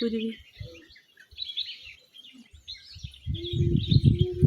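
Sparrows chirp in quick, high twitters, with a voice speaking briefly and a louder voice talking near the end.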